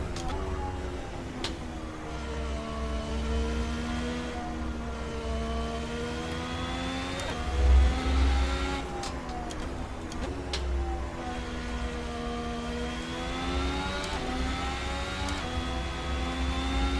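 A 2017 Ferrari SF70H Formula 1 car in Assetto Corsa revs its engine with a high, whining pitch that climbs and drops through gear shifts, loud and continuous with no voices.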